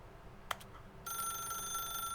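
Telephone ringing in the video game The Stanley Parable: Ultra Deluxe, a steady electronic ring starting midway after a brief click, continuing clearly and evenly.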